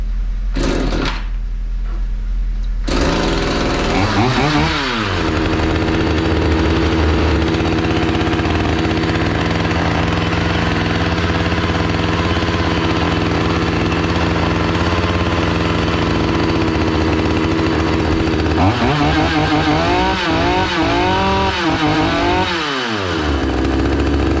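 A Hyundai 450 chainsaw runs continuously at high revs, loud and close, with a steady buzzing engine drone that briefly dips and rises again near the start and again toward the end.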